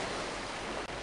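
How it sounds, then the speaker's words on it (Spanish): Ocean waves wash in a steady, soft broadband rush, faint and unbroken, heard in a quiet moment with no voices. "intentamos quedarnos quietos y sin hacer ningún ruido para ver si logramos escuchar el sonido de las olas"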